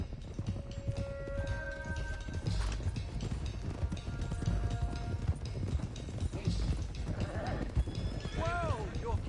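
Horses clip-clop along in a video game, a steady hoof rhythm under continuous game music and ambience, with one horse whinnying near the end.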